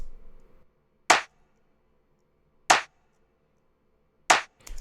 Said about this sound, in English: And then I have a clap layered with it.